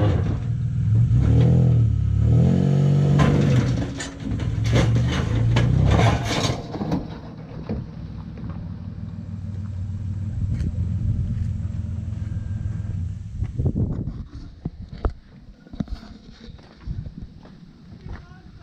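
A 1990s Chrysler that sat unused for years revs hard, with a loud rough rumbling engine and rising and falling throttle bursts up close, then it settles to a quieter idle with clanks and rattles as people talk.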